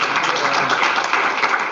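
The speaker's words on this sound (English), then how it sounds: "Let's give her one more round of applause." A crowd applauds steadily for a couple of seconds, a dense, even wash of many hands clapping with no voices on top.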